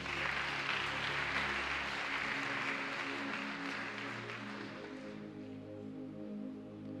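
Congregation applauding Jesus Christ during a church worship service, dense sustained clapping from a large crowd over a sustained musical background, slowly thinning toward the end.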